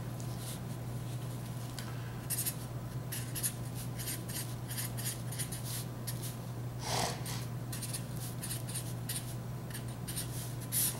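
A pen writes on a sheet of paper during a math subtraction problem, giving quiet, close scratching strokes in short bursts over a steady background hum.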